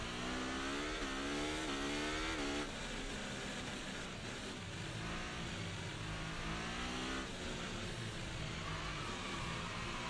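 F1 car engine in F1 24 running behind a safety car, a fairly faint, steady whine with repeated gear-shift pitch steps and other cars nearby.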